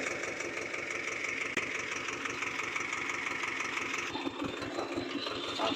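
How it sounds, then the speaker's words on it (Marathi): Village farm tractor engine running after being started, a steady close mechanical drone with a faint knocking pulse throughout and a small shift in tone near the end, no talking. "चला आता झालंय चालू ट्रॅक्टर"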